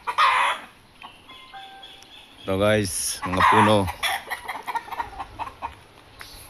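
Gamefowl roosters, including stags, gray hots and white kelsos, cluck and give a short crow close by, with someone talking over and between the calls.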